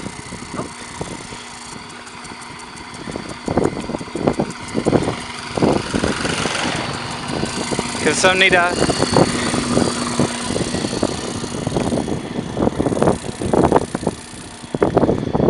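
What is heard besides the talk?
trucks and motorbikes driving along a path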